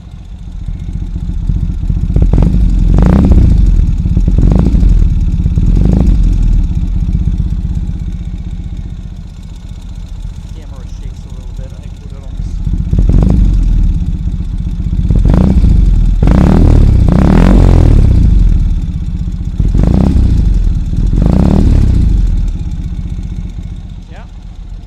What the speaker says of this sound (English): Take the microphone, which I have on me, and put it next to the exhaust.